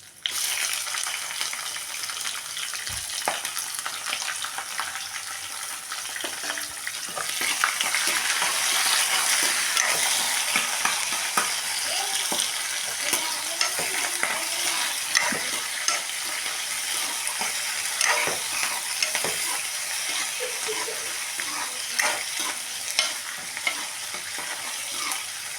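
Onions and green chillies fry in a hot pan, a steady loud sizzle with frequent scraping stirs and clatters of a spoon running throughout, growing fuller partway through.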